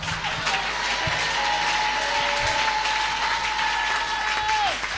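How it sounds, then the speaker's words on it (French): A church congregation at a French-language worship service bursts into sustained applause and cheering, a dense roar of clapping that holds steady and fairly loud throughout, with a faint voice or tone drifting over the crowd. "on acclame très fort le roi des rois"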